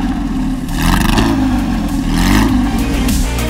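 Porsche 911 GT3 RS engine revving hard, a loud, continuous mid-pitched roar that climbs and falls in pitch, with mechanical clatter layered over it and no voices.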